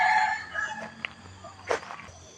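Chickens, including a rooster crowing, sound outside at Wat Pong Chai temple in Chae Hom, Lampang; the calls are moderately near, with a few scattered clucks and a brief louder burst midway.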